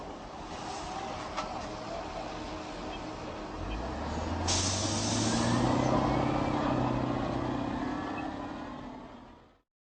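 Tank engine from a League of Legends hero ability, a heavy vehicle rumble with a rising mechanical whine and a sudden burst of hiss midway, fading out at the end.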